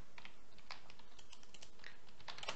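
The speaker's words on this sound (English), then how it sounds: "so Grayseeker, type your password" Password being typed on a computer keyboard during a Fedora 24 Workstation installation: quick, uneven runs of close, light key clicks with a few brief pauses, no voices.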